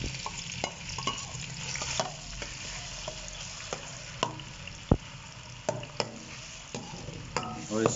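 Chopped onions frying in hot ghee in a pan for daal mash: a steady soft sizzle with scattered sharp crackles and pops, fairly quiet and close, with no talking.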